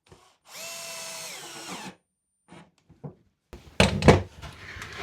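A power drill whirs as it drives a screw into OSB sheets being joined for a photo backdrop, running steadily for over a second, followed by a few light knocks and a louder clattering burst of handling noise.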